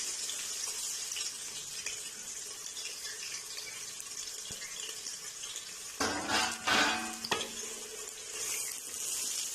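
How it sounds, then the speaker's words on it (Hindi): Sliced onions frying in hot oil for a Mughlai mutton curry, a steady sizzle with a burst of louder stirring and scraping in the pan near the end. "प्याज को हमने जो है वो गोल्डन ब्राउन करना है, बहुत ज़्यादा ब्राउन नहीं करना, गोल्डन होने तक हमने इसे फ्राई करना है"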